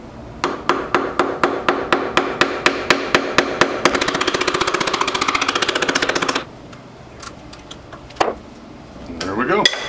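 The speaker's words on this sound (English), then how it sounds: "I'll just try to gently tap this chisel in there." Hammer gently tapping a chisel into a cracked knife handle scale: a close, even series of sharp metallic taps, then a fast rattling burst of rapid hits, ending with a few scattered knocks.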